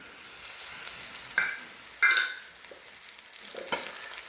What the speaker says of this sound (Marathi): आता आपण तडका देऊया